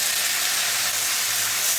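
Green chili and tomato paste sizzle in hot oil while frying for a Bengali banana-flower curry, a dense, even hiss heard up close and alone.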